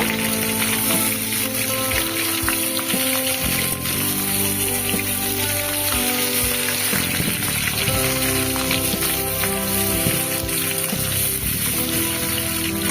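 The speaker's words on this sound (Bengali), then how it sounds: "এবার আলুগুলো তেলের ওপরে দিয়ে দিলাম আলুটা আমি হালকা করে এখানে একটু নেড়ে নেব" Potatoes frying in oil in a pan, giving a continuous crackling sizzle like rain on a surface, steady and fairly close, with faint background noises.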